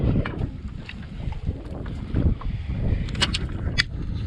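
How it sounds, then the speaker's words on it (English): Wind gusts into the microphone on a beach while someone practices throwing a cast net, a low continuous rumble with buffeting swells and faint higher rustles, no talking. "Let's see if that'll help with that wind coming straight to my back."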